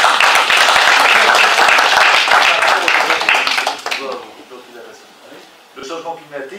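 Audience applause at a climate change talk, dense clapping loud and steady for about four seconds, then thinning out and fading as people begin speaking.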